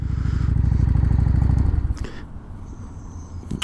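A motorcycle engine idles close by with a steady, loud throbbing rumble that cuts off after about two seconds, leaving quiet background with a few faint clicks.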